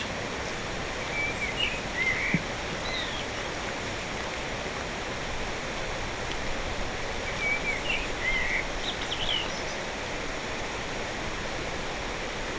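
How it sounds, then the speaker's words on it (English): Faint bird chirps and short warbling phrases from forest trees come and go in two bursts over a constant rushing stream, in Donard. "to listen to the birds singing in the trees"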